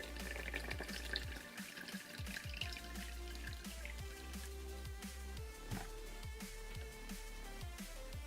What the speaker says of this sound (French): Maintenant, il faut rajouter l'eau dans le pot.